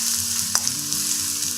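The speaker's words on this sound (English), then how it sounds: "Fry it here like this. It really doesn't take time, so you just stir it like this around 30 seconds" Minced garlic and chilies fry in hot oil for a Nepali gundruk and bhatmas dish, a dense close sizzle with a brief scrape of stirring, no voices.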